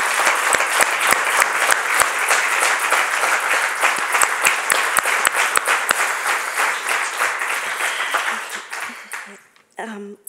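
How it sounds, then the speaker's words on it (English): Enthusiastic crowd applause at an awards ceremony, steady dense clapping with a few sharp individual claps, tapering off and fading out near the end. "I want us to give all another round of applause for each and every one of you."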